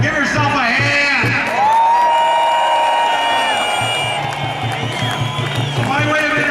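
A crowd at a labor rally at the Washington State Capitol cheers, whoops and claps loudly and continuously, with voices shouting over the applause.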